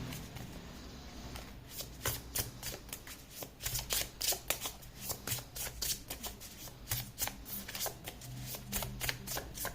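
Tarot cards are riffled and shuffled by hand in a long run of quick, crisp flutters and slaps, close and fairly quiet, repeating steadily for about ten seconds with no speech.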